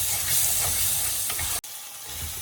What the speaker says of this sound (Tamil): இதுக்குள்ள தக்காளி இந்த இருக்குது, இதையும் சேர்த்து வதங்க விடுவோம்